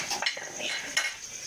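Spoon stirring a cabbage kofta mixture in a bowl, with a few scraping clinks and soft mixing rustles over a short stretch, close and fairly clear with no talking.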